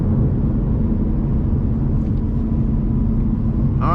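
Steady, loud engine drone and intake rumble from a Ford Mustang GT cruising under normal driving, a continuous low roar with no talking.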